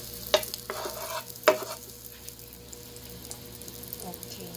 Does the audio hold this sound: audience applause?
no